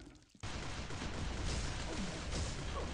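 The Sparkling Eel weapon in Pixel Gun 3D fires in a sudden dense burst that starts sharply and holds as a loud, continuous crackling roar to the end.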